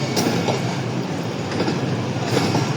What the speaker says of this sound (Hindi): 10 डाउन अलामा इकबाल एक्सप्रेस अपनी परमिसिबल स्पीड के साथ शादरा यार्ड से रवाना हो रही है।